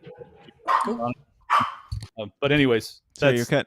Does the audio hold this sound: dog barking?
yes